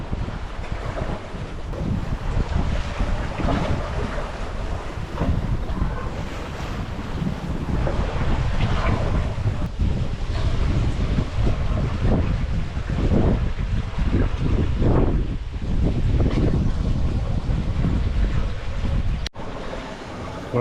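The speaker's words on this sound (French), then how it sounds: "le vent est trop turbulent" Strong turbulent wind roars across a sailboat at sea off the Rocher du Diamant, Martinique, with continuous rushing gusts and wave wash filling the whole stretch and no voices.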